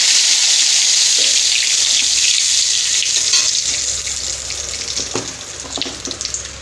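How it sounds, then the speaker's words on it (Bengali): A dried red chili, mustard seeds, cumin and two bay leaves sizzle in hot oil as a tempering for a vegetarian soybean and potato curry. The hiss is loud and steady, with a few sharp pops toward the end. "ফোড়নে দেবো একটা শুকনো লঙ্কা আর দেবো এখানে নিয়েছি সর্ষে আর হচ্ছে জিরে আর এখানে দুটো তেজপাতা"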